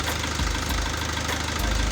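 A diesel car engine idles steadily during a scan tool diagnostic test, a loud, close, continuous rumble with a rhythmic knocking pulse and no talking.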